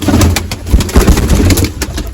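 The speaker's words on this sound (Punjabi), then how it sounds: "ਆਪਣਾ ਵੱਡਾ ਕਬੂਤਰ" A pigeon coos repeatedly up close, soft throaty rolling calls in a steady rhythm.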